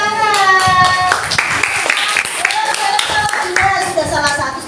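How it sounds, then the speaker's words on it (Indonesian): Classroom clapping during a school supervision lesson, moderately loud hand claps mixed with children's voices talking over them throughout. "Tepuk tangan."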